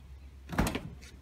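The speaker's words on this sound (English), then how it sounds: "When you open the door?" A car door opens with a brief, muffled clunk and a short rustle, fairly close, heard over a low, steady background hum.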